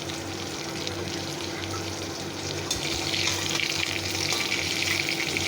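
Loitta fish fries in oil in a wok with a steady, close sizzle that swells slightly halfway through, with no voices.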